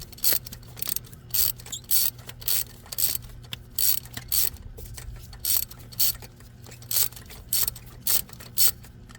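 A ratchet socket loosens a spark plug on a Honda Accord 2.4L engine, giving bursts of rapid clicking pawl strokes repeated at a fairly regular rhythm, close and clear with no talking.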